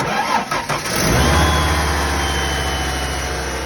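An older Ford car engine cranks briefly with a few rough turns, then catches and settles into a loud, steady idle close by, with no voices over it.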